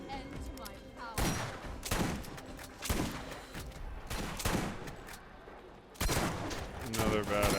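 Bursts of pistol fire in the video game Borderlands, with repeated sharp shots and heavy thumps in uneven volleys over a busy game soundscape, loud and punchy, with a voice speaking at times among the shooting.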